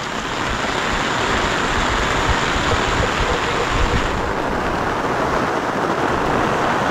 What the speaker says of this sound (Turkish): rüzgar döndü kanka.